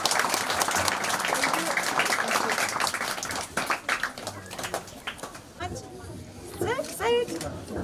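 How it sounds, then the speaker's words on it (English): Applause from a community crowd at a primary school opening in Fiji, dense and steady clapping that thins out toward the end while voices talk over it. "Let's put our hands together for a big round of applause"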